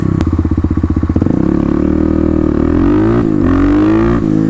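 Kawasaki KLX351 big bore motorcycle engine pulling a wheelie, loud and close: a rapid lumpy idle-like pulse that swells into a sustained rising rev as throttle opens, with no talking.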